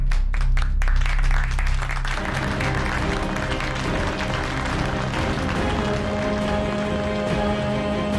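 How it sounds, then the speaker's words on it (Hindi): Audience applause at a formal gathering in a television drama, a dense patter of clapping that begins after a low rumbling opening and continues steadily with sustained musical tones underneath. "एक बार जोरदार तालियां हो जाए,"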